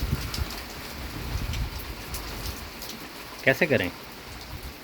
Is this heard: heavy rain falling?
yes